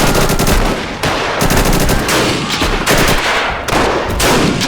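Battle in a war video game set in the 1935 Italo-Ethiopian War, with loud, dense machine-gun bursts and rifle fire crackling almost without pause, pulsing in rapid waves.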